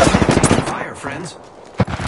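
Automatic gunfire in the Apex Legends battle royale video game: loud, rapid bursts of shots at the start, then a quieter stretch and one sharp report near the end, mixed with game voice sounds.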